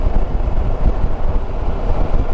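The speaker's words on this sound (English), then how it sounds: "Love the note of this engine." A Yamaha Tracer 9 GT motorcycle engine with a standard exhaust drones steadily and loudly throughout, a low rumbling note with wind buffeting the microphone as the bike rides along.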